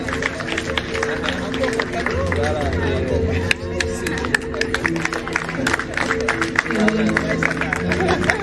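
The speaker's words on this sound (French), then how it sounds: "Qu'on applaudisse encore la marraine." Applause and cheering fill a crowded awards ceremony for Miss Mathématiques and Miss Sciences as the godmother is honored, with steady dense clapping mixed with loud crowd chatter throughout.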